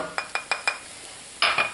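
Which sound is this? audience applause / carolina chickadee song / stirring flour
stirring flour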